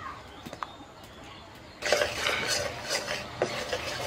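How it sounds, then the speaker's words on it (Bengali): Flour gets stirred into melted butter in a pan over very low heat. A spoon scrapes and clinks against the metal in quick, uneven strokes that turn busier and louder partway through, and nobody speaks. "একদম হালকা আঁচে ময়দাটাকে ভালো করে বাটারের সাথে মেশাতে হবে"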